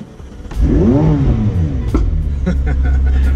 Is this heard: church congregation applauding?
no